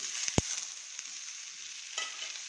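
Peanuts, garlic, coconut and ginger fry quietly in a pan, a soft steady sizzle with a couple of sharp utensil taps near the start, close with no talking.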